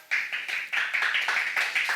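Studio audience clapping to vote for a favorite product pitch at a live pitching event, bursts of applause rising and swelling in uneven waves, fairly close and steady throughout.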